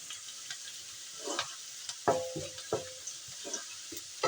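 Something fries in a pan until it turns brown, in preparation for a lentil dal with bottle gourd greens. A soft sizzle runs under a few distinct clinks and scrapes of stirring, close and fairly quiet, with no talking.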